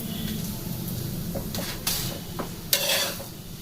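A paratha cooks on a pan with a small amount of oil, a soft steady sizzle running underneath a few scraping and stirring knocks from a spatula, heard close up.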